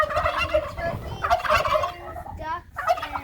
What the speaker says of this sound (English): I think the loud ones are the turkeys